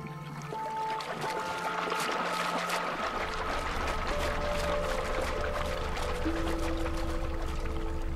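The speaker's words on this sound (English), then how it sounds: "its back acts like a piston, driving the surface of the water into a dramatic splashing display." A male alligator's vibrating back churns the water surface in a mating display, giving a steady low rumble and a continuous splashing wash, with soft music underneath.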